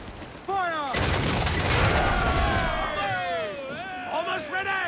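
Ship cannons fire in a heavy volley during a naval battle in Assassin's Creed 4: Black Flag, a loud booming burst under shouted orders from the crew, with voices continuing over the rumble.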